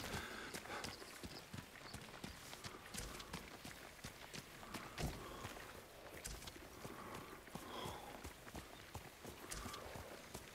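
Rhythmic hoofbeats of a horse in the video game Ghost of Tsushima moving at a steady pace, clopping continuously against a busy background.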